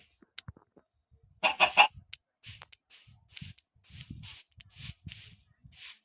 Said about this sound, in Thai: ไปอยู่ฟาร์มไก่กัน